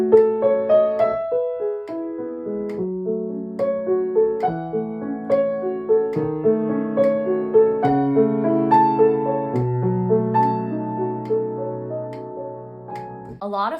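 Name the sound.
evenly timed triplets played with a metronome click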